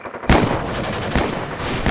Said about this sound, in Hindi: मेजर शैतान सिंह भाटी ने गोली चलाने का ऑर्डर दिया